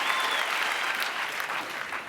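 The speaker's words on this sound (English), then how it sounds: "Give these guys one more round of applause" An audience at a church Christmas service applauds the performers, a dense, steady wash of clapping that holds at an even level throughout.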